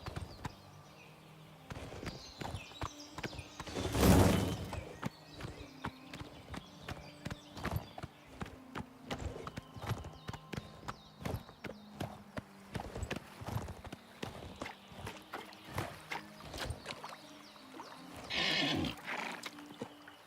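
A horse's hooves clip-clop steadily while being ridden in the video game Oblivion Remaster, with irregular hoof strikes, brief louder bursts around the middle and near the end, and a voice heard faintly at times.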